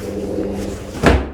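A door on a small tiny house shuts with one short, solid thump near the end, preceded by a low steady hum that may be a helicopter overhead outside.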